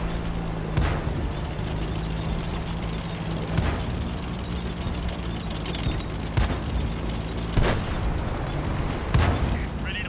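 A tank's main gun fires in a tank battle game, about five sharp heavy booms spaced every couple of seconds over a constant engine rumble, with a voice talking underneath.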